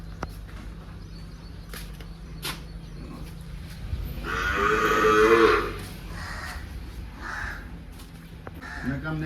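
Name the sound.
Gir cow mooing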